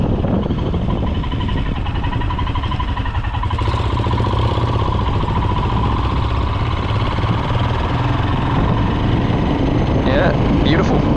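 A motorcycle with a freshly oiled chain rolls along very slowly, its engine a steady, close mid-pitched thrum with a faint whine running through it, and no speech.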